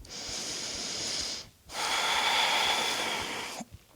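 Long, deep, airy breaths drawn in and pushed out through the nose and mouth during a power lunge in a challenging vinyasa yoga flow, two sustained hissing exhalations close to the microphone with a brief pause between them.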